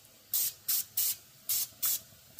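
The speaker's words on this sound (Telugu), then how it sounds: "స్ప్రే కొట్టు అన్నిటికీ." Cooking spray misted over sarva pindi, Telangana rice flour flatbreads, in six short hissing bursts at a steady rhythm, close and clear over a quiet kitchen background.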